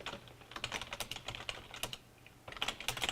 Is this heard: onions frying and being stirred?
no